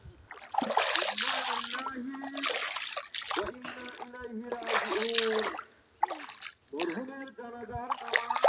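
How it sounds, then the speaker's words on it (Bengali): Someone wades into warm water, with repeated close splashes and sloshing in bursts while a person talks over much of it. "তো আমি একটু নামছি জলের মধ্যে।"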